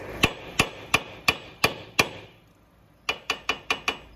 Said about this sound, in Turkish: Rotili yukarı doğru vururken arkadaşlar arasındaki yarıktan fazla yukarı gitmemesi lazım.